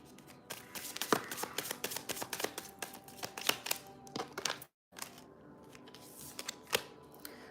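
Tarot cards being shuffled by hand, a rapid series of crisp riffling slaps and flicks, close and fairly loud, with a short pause before another run of card clicks; no talking.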